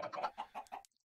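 Minecraft chickens cluck in a quick run of four or five short, close calls, then fall silent.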